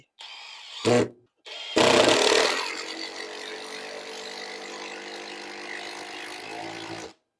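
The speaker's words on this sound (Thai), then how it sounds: "อันนี้สำหรับโหมดเจาะไม้นะครับ" A cordless Osaka OCID821-D1 impact driver, set to wood mode, drives a screw into wood: it whirs briefly, pauses, then runs again in a loud burst that settles into a steady buzzing whine before stopping abruptly.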